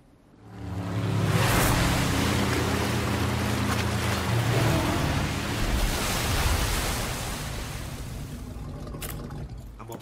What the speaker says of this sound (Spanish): La moto de agua que luego coge Leo.